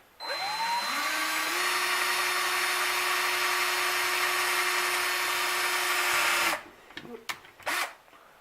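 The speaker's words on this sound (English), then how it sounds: "it's a little easier to get a small drill started in there" Small drill bit bores a pilot hole into a piece of 308 brass, a loud steady whine that rises as the motor spins up, holds for about six seconds, then stops, followed by a few short clicks and handling noises.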